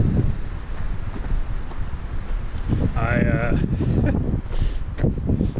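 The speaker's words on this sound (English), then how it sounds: "my oh my, it's cold and it is windy" Strong, cold wind gusts across a microphone on a hiking trail near Big Bear Lake, California, a loud rumbling buffet that rises and falls, with brief talking partway through.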